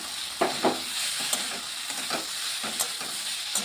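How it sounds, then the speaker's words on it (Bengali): Paneer hitting a hot pan and being stirred, a steady sizzle with soft scraping strokes of a spatula at irregular intervals, close and continuous. "পনিরটা আমি দিয়ে দিচ্ছি।"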